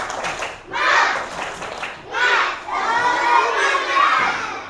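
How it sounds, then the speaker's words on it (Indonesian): A classroom of schoolchildren shout and clap in a rhythmic spirit cheer, loud bursts of young voices in unison with claps, rising and falling in phrases. "coba kita tepuk semangat"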